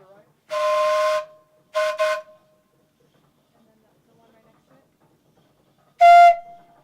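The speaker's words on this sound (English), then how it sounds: "It carries a variety of whistles on it" A steam donkey's whistle, powered by a wood-fired boiler, sounds in three blasts: one long, a short double toot, then a final loud blast after a silent pause.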